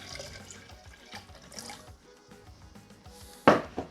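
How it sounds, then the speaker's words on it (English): Water splashes and trickles into a blender at close range, poured from a drinks jug, ending with a brief louder gush. "I have 4 cups of water inside this drinks jug, and I'm just going to add some into the blender"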